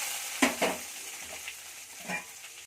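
Shallots frying in hot oil with a loud sizzle, stirred with a few scraping strokes: two sharp scrapes early, then a steady hiss with another stir near the end.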